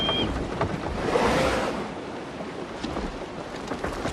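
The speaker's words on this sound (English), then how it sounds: "Just listen to that rain." Steady broadband rain hiss in the game Assassin's Creed Shadows, a dense wash of falling rain heard alone at moderate level for the full stretch, swelling slightly around the middle.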